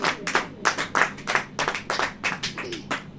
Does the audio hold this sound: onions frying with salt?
no